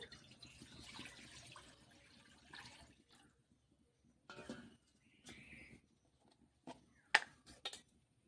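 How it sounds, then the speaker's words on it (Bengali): Water splashes into a kadai set on the stove for a jackfruit (echor) and prawn curry, in a few quiet, uneven bursts with a sharper clatter near the end. "কড়া বসিয়ে দেবো দিয়ে দেব জল"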